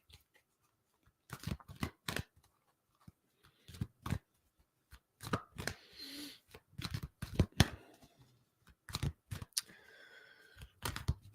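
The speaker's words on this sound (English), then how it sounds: "So give the cards a good shuffle." Cards are shuffled by hand in several separate bursts of quick riffling flutter with short pauses between, close and fairly quiet, with no talking.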